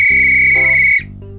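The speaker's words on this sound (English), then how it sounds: "It's fun to pretend to be a crossing guard, especially when you have a whistle like this." One loud, shrill crossing-guard whistle blast sounds close up, steady for about a second before it cuts off sharply.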